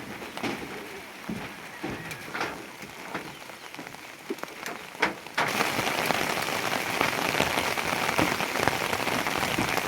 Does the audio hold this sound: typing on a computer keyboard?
no